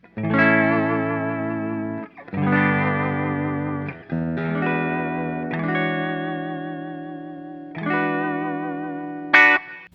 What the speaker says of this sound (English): there's a wiggle sound that you can get with a floating tremolo